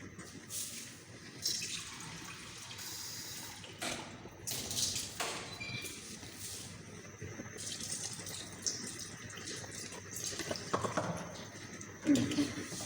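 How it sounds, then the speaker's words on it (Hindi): Water poured in several short bursts into a cooking pot of arvi gosht, faint splashing and trickling with pauses between pours, close by. "2 कप पानी डाल दिया इसमें, 1 कप और डालूँगी।"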